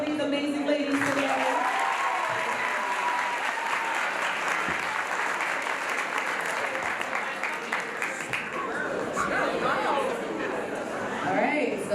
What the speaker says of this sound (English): can you guys clap it up for these amazing ladies today?